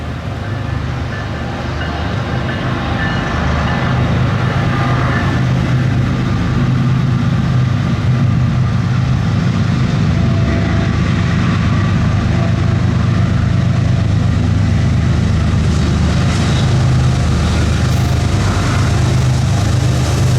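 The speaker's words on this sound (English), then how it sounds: "it throttled up and rolled by, with a DC Gevo in the lead" Norfolk Southern freight train 34J rolls by with a DC GEVO locomotive leading, a steady loud low rumble of engine and rail cars sustained throughout, with no voices.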